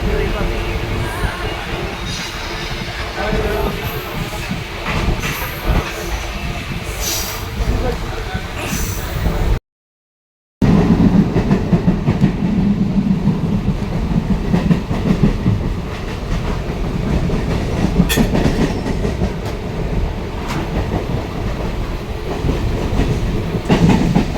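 A train rumbles loudly past at close range, wheels clacking rhythmically on the rails, with voices talking over the noise.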